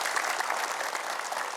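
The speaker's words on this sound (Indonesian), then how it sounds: "Subhanallah, tepuk tangan." An audience at an Islamic religious talk claps together in a steady, even patter, moderately quiet and heard alone for a brief moment.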